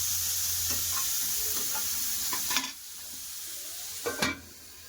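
Potato and pumpkin pieces fry in a pan with a steady close sizzle, broken by a few sharp scraping knocks of a spatula turning them, the hiss fading lower toward the end.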